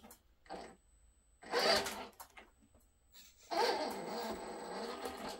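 A Cross RC Emo X4 RC truck with a two-speed transmission drives its electric motor in two bursts, a close, whining, gritty buzz that surges loud and then holds, with quiet gaps between.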